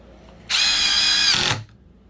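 A DeWalt impact driver drives a screw with a Spax bit for about a second, a loud, steady, buzzing whir that starts and stops abruptly, close by with no talking.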